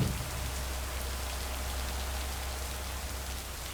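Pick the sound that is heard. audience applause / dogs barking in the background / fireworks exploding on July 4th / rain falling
rain falling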